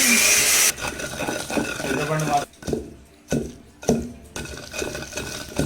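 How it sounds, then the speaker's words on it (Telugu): Heavy, evenly spaced thuds of stone pounding ripe red chillies in a stone mortar repeat close by, with a grinding, scraping texture between strikes. "ఫస్ట్ పండు మిరపకాయలు మాత్రమే బాగా దంచుకోవాలి ఫ్రెండ్స్"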